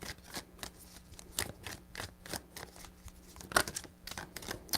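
Tarot cards riffled in three close shuffles, a run of quick, crisp papery flutters and soft taps heard alone at moderate level.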